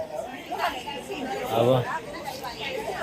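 A crowd of visitors chatters at a busy memorial site during an anniversary gathering, with many overlapping voices at moderate distance and a nearer voice rising briefly in the middle.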